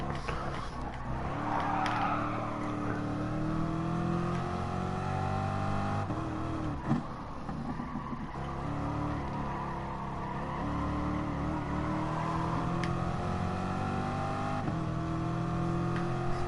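Race car engines in the Gran Turismo Sport game during an online FIA race, a steady loud roar with shifting revs and tyre noise running the whole way through, no voices.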